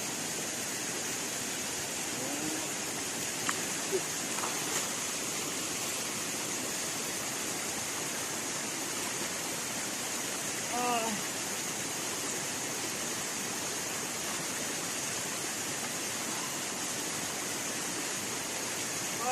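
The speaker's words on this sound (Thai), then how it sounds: "ผมมาเจอลำธารนะครับ เป็นลำห้วยนะครับนะคล้ายๆน้ำตกเลยนะครับ" A small forest stream pours like a little waterfall, a steady, even rush of water with no breaks, heard alone and fairly close.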